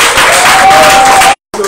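A church congregation applauds and cheers in a dense, steady wave of clapping and voices that cuts off sharply near the end, followed by a brief return of crowd noise.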